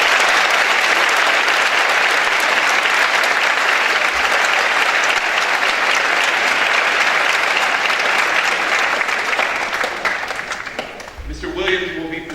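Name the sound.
audience applause at school awards assembly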